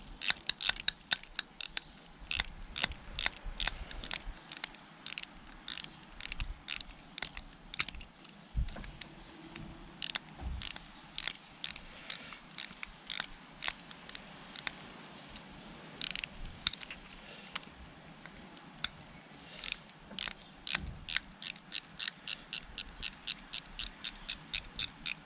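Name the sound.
ratchet tool clicking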